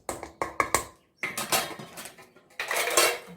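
Spoon clinking and scraping in a bowl while mixing sugar, yeast, salt and mixed spices for hot cross buns, quick close taps at first, then longer swirling scrapes, loud and without talk.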